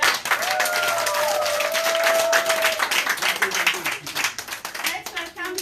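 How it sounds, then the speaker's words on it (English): Audience clapping at a business event in Kenya, close and fairly loud with distinct individual hand claps, a steady round that turns uneven and dies down toward the end while a voice carries over it. "can we clap for that?"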